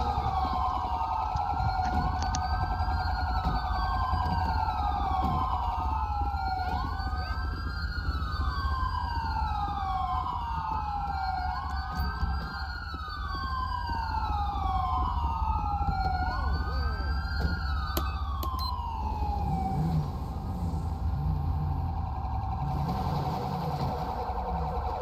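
Police car siren check in GTA V FiveM, a loud wailing siren sweeping up and down repeatedly in a steady cycle over engine rumble, cutting off near the end.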